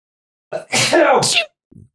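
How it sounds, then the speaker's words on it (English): A single loud, close sneeze with a sharp inhale leading into a forceful burst, followed by a brief faint sound after. "I have to sneeze."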